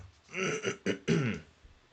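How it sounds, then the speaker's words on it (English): A person clears their throat a few times in quick, rough bursts, close to the mic, with no talking. "sorry, I keep clearing my throat"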